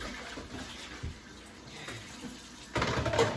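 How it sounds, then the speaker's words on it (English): Kitchen tap water running while dishes are rinsed, a soft steady hiss that swells into a louder, fuller splash near the end, close by. "When I rinse, I usually let the water run."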